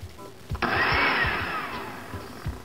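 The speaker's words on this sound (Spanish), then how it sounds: "Vamos a licuar esto acá," A kitchen blender runs loud and steady, blending cooked potatoes and corn for a tuna cake recipe; a few faint knocks come before it starts, and the whirring grinds on close up without any talk.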